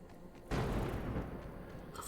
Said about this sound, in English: That really did sound like gunfire just then.